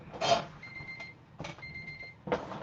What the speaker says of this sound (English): So that's an alarm that says it's time to take my nighttime meds.